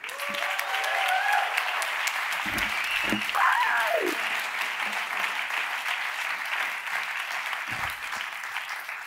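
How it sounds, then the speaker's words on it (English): Award show audience applauding to welcome a guest onstage, sustained, even clapping from a large crowd filling the room, with a few brief voices and whoops near the start. "This is your applause. Welcome the fantastic Darcy Proper."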